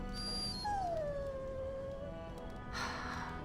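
A dog in the Dragon Age video game lets out a long, drawn-out whimpering whine that falls in pitch, near and moderately loud over faint game ambience.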